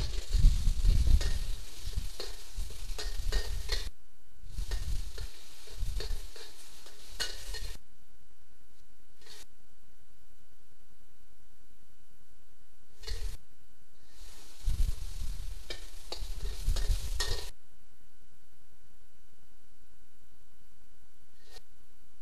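Shredded chicken stir-frying with minced garlic in a hot wok, giving bursts of loud sizzling and scraping stirs separated by quiet pauses, close by with no talk.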